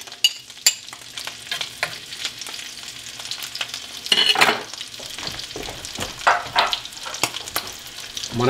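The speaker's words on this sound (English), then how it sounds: "we're going to fry this in butter on low heat. I'm going to mix in a little garlic." Arctic char frying gently in butter with a little garlic over low heat: a continuous soft sizzle punctuated by sharp clicks and scrapes of a utensil against the pan, fairly close.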